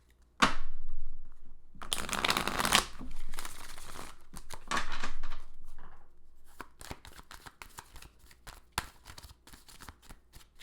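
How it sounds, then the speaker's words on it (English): Tarot cards being shuffled by hand, with brisk riffling bursts followed by a run of quick, sharp card flicks and taps, close and clear with no talking. "Just a few more shuffles."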